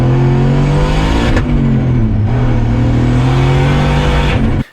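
Turbocharged Pontiac GTO with a straight-piped exhaust revs hard and loud, the engine note rising and dipping through a few pulls before cutting off abruptly at the end.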